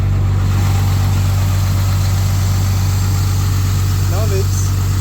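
Caterpillar 329D excavator diesel engine idling up close, a steady low rumble with constant vibration throughout and a brief faint squeak near the end.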